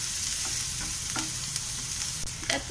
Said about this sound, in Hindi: अब इसको थोड़े से अच्छे से भून लेते हैं। मेरे अनियन थोड़े से पिंक होने तक मैं भूनूंगी।